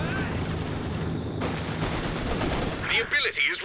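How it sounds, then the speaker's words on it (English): Aircraft strafing run in the Company of Heroes 2 strategy game, dense continuous gunfire and impacts that swell loudly, joined by a voice talking near the end. "Brings in another strafe."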